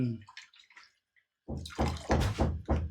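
A few faint wet dabs of water onto jowar (sorghum) flatbread dough, then a run of louder, rhythmic wet slaps and pats, close by, with no talking.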